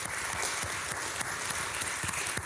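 Conference audience at a FAIRCON25 welcome address applauding together, a continuous, fairly loud spread of many hands clapping, heard on its own without speech.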